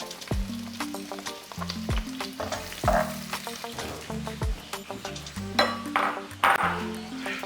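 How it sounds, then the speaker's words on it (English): Onions sizzle and crackle steadily in hot oil while a utensil clinks and scrapes against the pan in uneven knocks. "Ooh, so hot. That sizzle."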